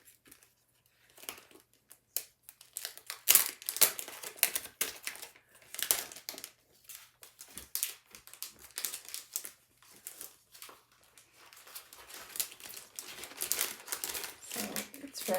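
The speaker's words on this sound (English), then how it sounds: "And I store it back in the cellophane package that it came in." A chalk stencil slides back into its crinkly cellophane package, giving close, quiet bursts of crackling and rustling plastic that come and go in irregular handling clusters.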